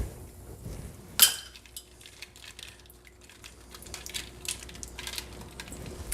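Eggs and ice clinking together in a bowl of ice water, with one sharp clink early, then scattered light ticks, knocks and rattles of ice cubes shifting, close and fairly quiet.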